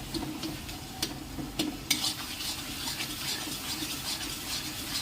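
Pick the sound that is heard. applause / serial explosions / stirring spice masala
stirring spice masala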